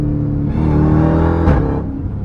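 A Jeep Trackhawk's supercharged engine whines steadily while cruising on a highway, a loud continuous mechanical drone with a rising surge midway, heard alone without talk.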